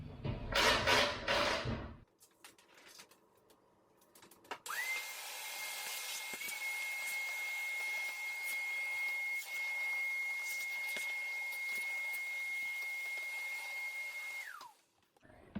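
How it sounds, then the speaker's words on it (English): A vacuum cleaner starts up with a rising whine and runs steadily for about ten seconds inside a car door during speaker installation, before winding down, preceded by a brief rustling burst. "Let me vacuum this up"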